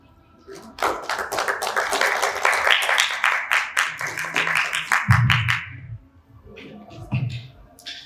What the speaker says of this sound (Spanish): Fuertes votos de aplauso